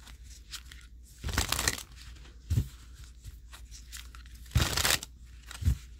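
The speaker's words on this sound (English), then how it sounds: "One more little shuffle here." Tarot cards being shuffled by hand, giving a few papery bursts of riffling and crinkling spaced apart over a quiet background, fairly soft and close with no talk.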